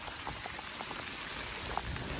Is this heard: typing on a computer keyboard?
no